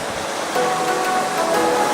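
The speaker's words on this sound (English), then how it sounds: "that was a heck of a splash" Surf surges into Mermaid's Grotto, a sea cave on Okinawa, in a dense, steady roar of churning water that swells louder partway through, with no voices.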